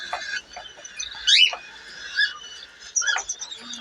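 Sharp, high chirps and squeaky calls from cockatiels feeding come in short bursts, close up, with brief quiet gaps between.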